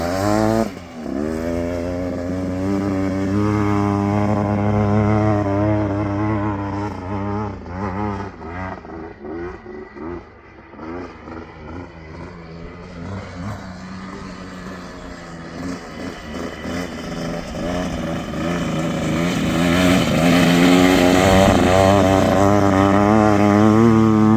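A Kawasaki DT trike engine runs close and loud on the sand dunes at St. Anthony, revving up and down through test runs with a steady harmonic drone that eases midway and climbs again near the end.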